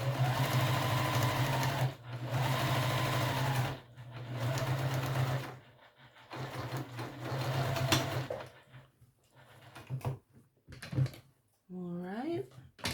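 A sewing machine topstitches in steady, whirring runs with short pauses between them, while a person talks over and between the bursts.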